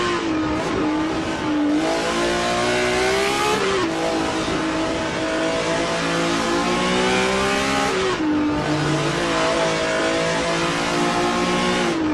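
Onboard BMW M1 Group 5 race car engine at Road Atlanta in a racing video game, loud and continuous, revving up and down through repeated shifts with a brief tire squeal.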